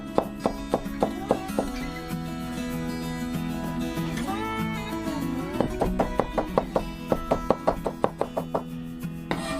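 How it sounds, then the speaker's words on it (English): A knife thinly slices crushed garlic cloves on a cutting board in quick runs of crisp, regular taps, broken by a short pause in the middle, all set against background music. "Start by crushing the garlic cloves with the side of the knife. Then cut them thinly."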